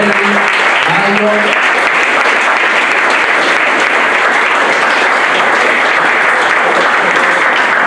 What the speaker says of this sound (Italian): C'è qualcuno che vuole fare un applauso a Mauro Roselli, Mario.